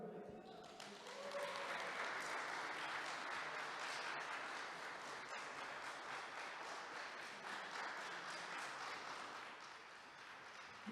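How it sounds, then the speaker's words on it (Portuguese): An audience at a church sermon applauds warmly. The clapping swells within the first second, holds steady and dense for about ten seconds, then eases off toward the end. "Mais uma calorosa salva de palmas"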